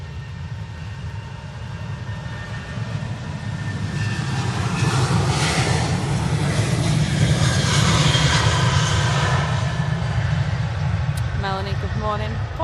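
A KLM airliner bound for Amsterdam departs from a Manchester Airport runway, its engine roar building and holding as a loud, broad rumble for several seconds, heard at a distance outdoors.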